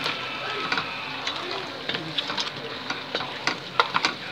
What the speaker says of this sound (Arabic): هنبتدي بقى ايه نقلب كل ده مع بعضه